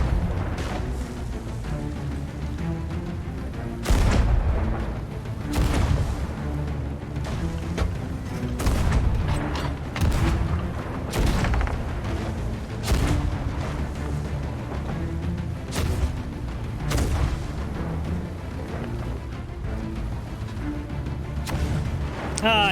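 Ship cannons firing in Sea of Thieves, a rapid series of loud, heavy booming shots with sharp attacks, spaced about a second apart over a rumbling sea-battle background, with no voices.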